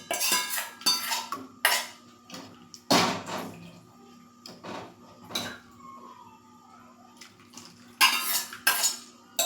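A spoon stirs premix milk in a metal pot, giving sharp, irregular clinks and scrapes against the sides, close and fairly quiet, with short pauses between bursts.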